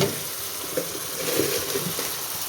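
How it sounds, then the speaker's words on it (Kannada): Tamarind water pours into a hot pan of bitter gourd palya and gojju, a steady splashing, gurgling flow with a faint sizzle beneath, close and continuous with no talk. "ಹುಣಸೆ ಹುಳಿನ ಬಿಡ್ತಾ ಇದ್ದೀನಿ"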